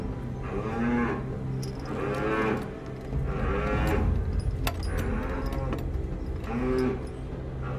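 Cattle confined in indoor livestock sheds low in several long, drawn-out moos, one after another, over a steady hum of the building.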